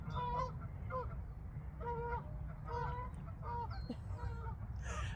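A pet goose at Belmar Lake honks repeatedly in nasal, evenly spaced calls over steady outdoor background noise, fairly close and moderately loud.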